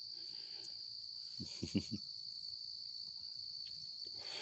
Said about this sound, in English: The crickets are chirping.